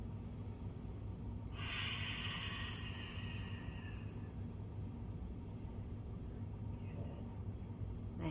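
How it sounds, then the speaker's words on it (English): A single long, deep breath during a gentle restorative yoga stretch, a soft airy rush lasting about two seconds, faint against a quiet room hum. "So I'm just taking a couple of breaths there."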